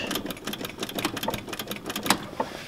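A 1969 Ford F-250 truck engine with a carburetor runs close by, producing a rapid, even mechanical clatter with a few brief louder ticks and no voices.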